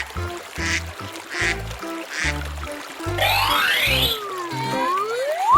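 Cartoonish duck quacks repeat in a steady rhythm within a 3D animal slide video game, set over bouncy game music and whooshing slide effects.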